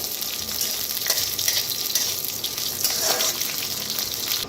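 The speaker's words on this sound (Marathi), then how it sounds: "थोडंसं तेल ओतून भाजून घेऊया खोबऱ्याला, थोडंसं ओतून भाजून घ्यायचं। मोहरीचं तेल वापरलेलं आहे।" Grated coconut roasting in a little mustard oil over a wood-fired clay stove gives a steady, close sizzle and crackle that runs unbroken, with no talking.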